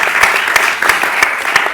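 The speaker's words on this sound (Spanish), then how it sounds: "Esto tiene un aplauso." Audience applause at a panel talk on innovation and social impact, steady dense clapping from a crowd, loud and close, lasting under two seconds with no speech over it.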